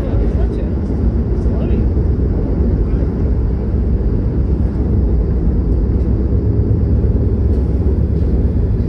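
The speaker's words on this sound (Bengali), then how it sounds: "দ্রুতই ট্রেন বেশ গতি নিল।" A Vande Bharat express train running at speed on the Howrah to Bolpur route, heard from inside as a loud, steady low rumble and roar that holds without a break throughout.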